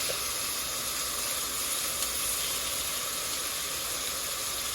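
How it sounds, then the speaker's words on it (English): A steady, even sizzling hiss of black soybeans frying in hot butter continues without a break throughout. "I hear them sizzling in the butter, in the beans and butter."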